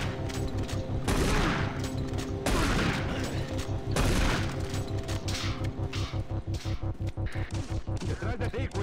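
Shotgun blasts in the video game Doom 3 BFG Edition, several loud booming shots layered over a dense, continuous wash of game noise and mechanical hum.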